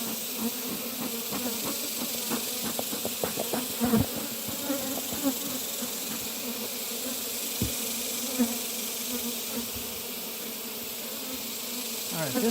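Honey bees hum in a dense, steady drone during an open hive inspection, close and continuous, with occasional clicks and knocks of frames being handled.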